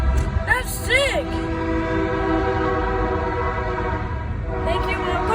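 A passing train sounds its horn in a few short, loud blasts near the start, then rumbles steadily past for several seconds, with voices heard over it.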